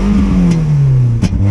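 Lada Granta sleeper with a roughly 200-horsepower engine revs loudly and close, the engine pitch gradually falling as it settles, with a brief blip near the end.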